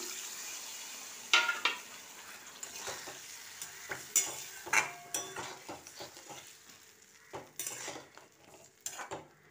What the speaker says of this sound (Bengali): এবার মশলাতে আমি জল দিয়ে দেবো, মশলার তেল ছেড়ে গেছে।